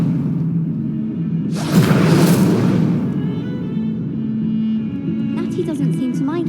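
A burst of fire from the Incendio spell in the Hogwarts Legacy game flares in a loud whooshing rush for about a second, then fades amid rumbling background and music.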